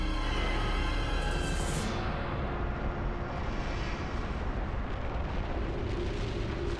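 A volcanic eruption blasts lava thousands of meters into the air with a loud, continuous roar. The rumble stays dense and unbroken throughout, and a bright hiss at the start fades after a couple of seconds.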